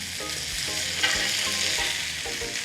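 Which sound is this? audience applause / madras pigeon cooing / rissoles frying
rissoles frying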